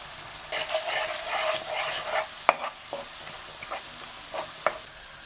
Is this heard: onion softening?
yes